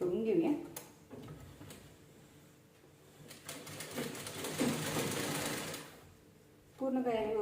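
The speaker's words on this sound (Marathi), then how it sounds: "आहे असं गळ्याला आपण स्टिच करून घेऊया." A sewing machine stitches around the neckline of a black blouse with its lining laid over the main fabric, running in steady bursts that rise and fall, with someone talking over it at moments.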